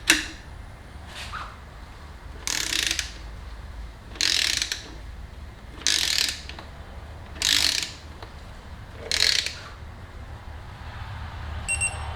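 A 3/8-inch torque wrench with a short extension ratchets in six evenly spaced bursts of close, bright clicking while Shogun frame sliders are bolted onto a 2019 Kawasaki Ninja ZX6R 636, with quiet pauses between strokes.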